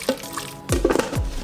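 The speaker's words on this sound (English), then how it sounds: "we'll add some water" Water is poured into a soup pot holding goat meat and water snails, two short splashing pours with a gurgling fill, close and moderately loud.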